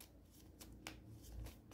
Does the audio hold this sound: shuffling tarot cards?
yes